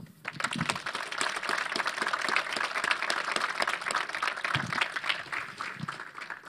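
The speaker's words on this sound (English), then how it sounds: "So I want to give them a round of applause." Sustained audience applause at an Embedded Linux Conference closing session, a dense steady patter of many hands clapping for several seconds with no talk over it.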